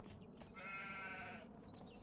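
Sheep bleat in a Farming Simulator pen, one drawn-out quavering call heard faintly behind a steady low game hum, with no voices.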